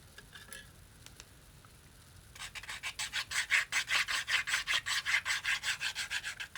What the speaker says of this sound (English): We're going to add glue.